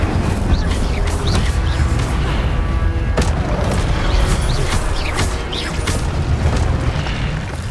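Spell combat in the Hogwarts Legacy video game as the Incendio fire spell is cast, with booming impacts, whooshing bursts and crackling effects layered over a continuous, dense game soundscape.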